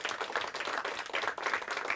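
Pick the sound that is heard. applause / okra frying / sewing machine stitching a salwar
applause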